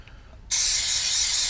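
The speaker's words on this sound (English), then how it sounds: "Some brake cleaner or whatever choice you want." An aerosol can of brake cleaner fires a sudden, loud, continuous hiss onto brake parts after a short quiet moment.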